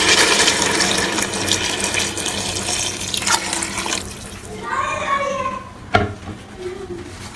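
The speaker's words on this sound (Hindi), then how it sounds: "ये मैंने सारी यखनी अब इसमें डाल दी है" Yakhni broth being poured into a pot of cooked beef for nihari, a steady liquid splashing and running sound that fades into gurgles and a clink near the end, with someone talking over it.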